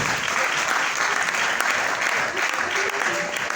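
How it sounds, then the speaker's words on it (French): Sustained crowd applause at a live comedy show, broad and even, with a voice talking faintly through the clapping. "Applaudissez, applaudissez."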